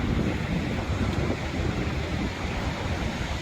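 Ocean surf breaking at Muriwai Beach on Auckland's west coast, a steady loud wash of waves blended with heavy wind buffeting the microphone, no voices.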